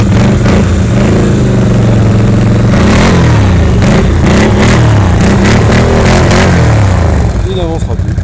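A Fiat 500 bogged down in mud, its engine revving hard and loud and close for several seconds, pitch rising and falling as the wheels strain, with voices talking over it.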